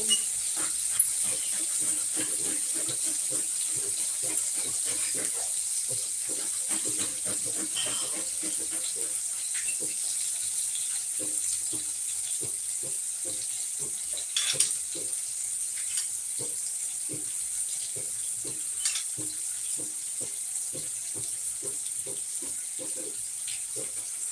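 Paneer frying in a pan with chopped ginger, a steady high hiss with scattered small crackles running throughout, fairly quiet and close.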